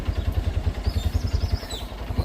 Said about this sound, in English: I'm getting in a tuk-tuk.